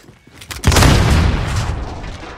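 A frag grenade goes off in Call of Duty Warzone as one loud, close boom that hits hard and then rolls into a long rumbling tail, with faint game noise before it.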